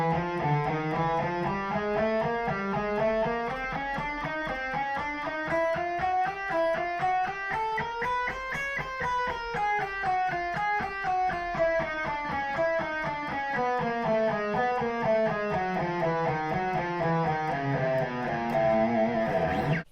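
Clean electric guitar playing a fast alternate-picking exercise of four-finger patterns across the strings, an even stream of single notes climbing and descending in steady waves, close and without talk.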